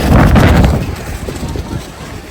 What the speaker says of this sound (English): That wind is going crazy today at the expo